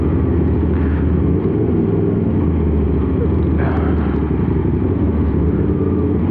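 A 450SR motorcycle being ridden drones with a steady, loud, low engine hum throughout, with a slight rise partway through, under a voice talking.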